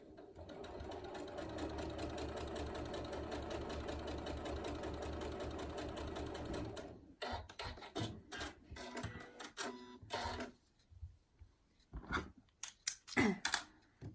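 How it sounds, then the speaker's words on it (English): A sewing machine stitches a seam along a drawn diagonal line on fabric for a tool wrap, running steadily and close for about seven seconds before stopping, followed by scattered handling clicks and rustles. "we're going to draw a line across that diagonal, and then we're going to sew actually on the line"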